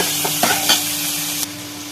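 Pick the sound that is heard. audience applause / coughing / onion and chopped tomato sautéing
onion and chopped tomato sautéing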